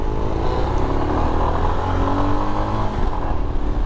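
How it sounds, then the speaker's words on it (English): A Royal Enfield Himalayan motorcycle accelerating with heavy throttle, its engine droning loud and steady up close, with some clatter from the bike and no talk. "This is a Royal Enfield Himalayan. It needs quite a bit of gas to get going."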